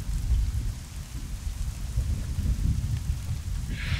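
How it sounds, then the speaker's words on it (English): Thunder effect in the horror adventure game Eleusis, a deep continuous rumble with rain-like hiss, steady and enveloping, with a brief brighter crackle near the end. "Nice thunder effect."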